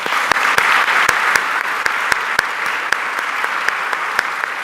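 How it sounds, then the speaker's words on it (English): A club audience gives a sustained final round of applause after a talk, dense and steady clapping near and loud throughout with a few sharper individual claps standing out. "let's have a final round of applause for Anthony."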